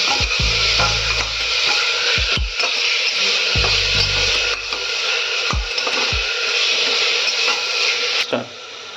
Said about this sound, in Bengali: ঠিক এইভাবে আমরা সবগুলোকে একসাথে একটু হালকা করে ভেজে নিচ্ছি।